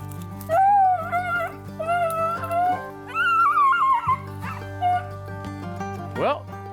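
Hunting dogs on a rabbit chase give a chorus of high yips, howling bays and whimpers, close and loud, with layered overlapping cries and a steady low hum beneath.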